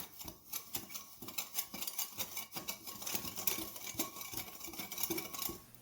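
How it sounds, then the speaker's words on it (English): Dry bath bomb ingredients are whisked briskly in a bowl after sifting, producing quick, steady scraping and ticking strokes that repeat close up without pause and with no talk. "whisk together the ingredients to remove any remaining clumps"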